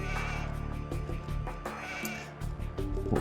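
Sheep bleating in Age of Empires II HD, Rise of Rajas, on a random map: loud, repeated game-sound bleats layered over a busy in-game background, with no speech.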